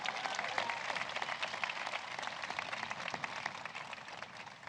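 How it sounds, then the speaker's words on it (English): Crowd applause for a speaker at a presidential bill-signing event, a faint, steady patter of many hands clapping at a distance, sustained evenly without a clear peak. "another round of applause for our amazing speaker"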